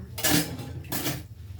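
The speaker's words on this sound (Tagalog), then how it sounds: "Maghuhugas muna ako para pagkaluto wala na tayo hugasan." Dishes being washed in a kitchen sink, two brief clattering bursts of pots and cutlery over running-water hiss, fairly close.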